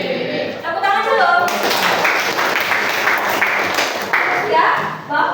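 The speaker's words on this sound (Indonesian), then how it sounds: "Tepuk tangan dulu." A classroom of students claps together in a burst of applause lasting several seconds, loud and dense with sharp individual claps, as a teacher's voice speaks briefly before it.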